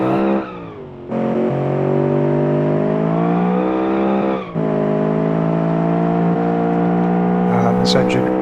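High-revving 1940s sports car engine in BeamNG accelerating hard, harmonic whine climbing steadily through the gears with two brief dips at shifts, loud and close, ending in a short squeal.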